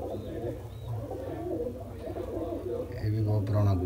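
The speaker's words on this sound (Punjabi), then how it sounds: "ਇਹ ਵੀ ਕਬੂਤਰ ਪੁਰਾਣਾ ਕਬੂਤਰ ਹੈ" Old pigeons coo in low, rolling murmurs close by, a steady throaty sound running under someone talking.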